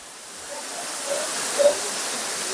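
Aruvikkachal waterfall in Kottayam, a broad, steady roar of falling water heard close and constant, with no voices.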